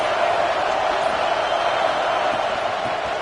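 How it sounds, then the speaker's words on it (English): Large football stadium crowd at a Florida State (FSU) game swelling into a steady, loud roar, a dense wash of voices sustained throughout with no single voice standing out. "This crowd rising up, sensing that its defense needs some help."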